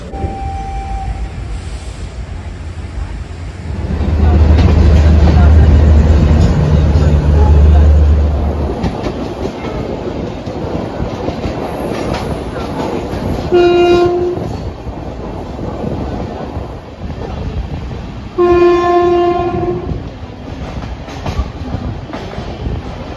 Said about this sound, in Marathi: फायनली आपली ट्रेन रवाना झाली 8:24ला मुंबई छत्रपती शिवाजी महाराज टर्मिनस येथून